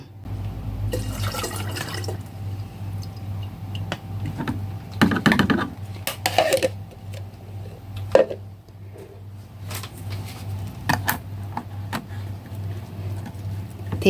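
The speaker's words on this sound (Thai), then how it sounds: "เดี๋ยวเราจะเทลงถังหมักเลยค่ะ" Yeast mixture for homemade cocoa white chocolate wine is poured into a fermentation bucket, giving a close, gurgling, splashing pour with drips and a few bumps of the container against a low steady background hum.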